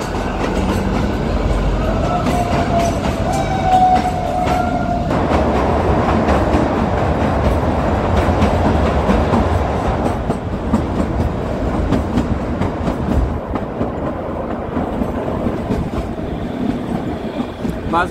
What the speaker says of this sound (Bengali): 10 নম্বর টানেল পার করছে আমাদের হিমালয়ান কুইন